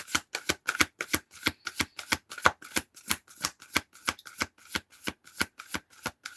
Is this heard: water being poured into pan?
no